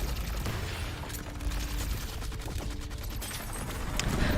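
Sustained gunfire in the video game Love and Deep Space as an aircraft climbs into the clouds, a dense, continuous barrage of shots and booms filling the clip at steady loudness with no speech.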